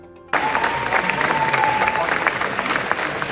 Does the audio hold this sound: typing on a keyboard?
no